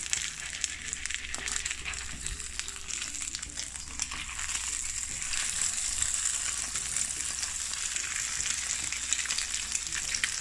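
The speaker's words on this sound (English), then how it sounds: "you fry your eggs to how you want it" Eggs fry well done in a pan for a Jamaican breakfast, giving a steady, bright crackling sizzle that runs unbroken and fairly close throughout, with no voices.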